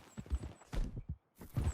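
A horse walks in Red Dead Redemption 2. Its hooves give a close, steady clip-clop of soft thuds, with a brief pause midway and no talking.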